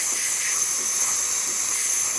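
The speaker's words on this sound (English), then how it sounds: "it's a very nice steam coming out of the machine" Steam jets from the steamer wand of a DeLonghi Magnifica espresso machine fitted with a new water pump, a strong, steady, close hiss running without a break.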